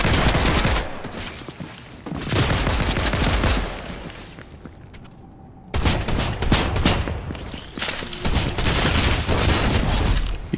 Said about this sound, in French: Je tire de loin, je tire de loin, je mets des bastos gratos.